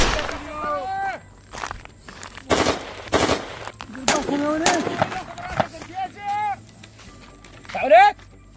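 Machine-gun bursts crack out in a video game firefight, the sharp volleys separated by gaps, while several people talk and shout excitedly over the shooting.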